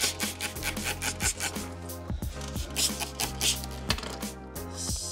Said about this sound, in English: Squeegeeing this down side to side in a sawing motion so I can make sure that this is all down.